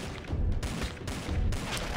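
Rapid bursts of gunfire aimed at zombies in Dead Ahead: Zombie Warfare, a dense, continuous volley lasting the whole stretch and swelling in two louder waves.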